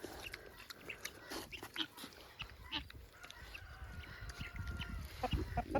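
Chickens clucking and murmuring nearby amid outdoor rustling and scattered small sounds, a busy farmyard mix with no clear talking.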